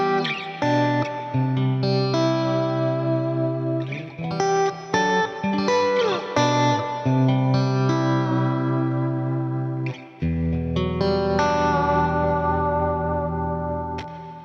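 An electric guitar plays sustained chords and notes through a reverb pedal with high-pass and low-pass filters, loud and washed in echoing tails, with no talking.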